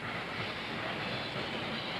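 A vintage tram runs at the National Tramway Museum in Crich, giving a steady, dense rolling rumble and hiss from wheels on track, with no break across the stretch.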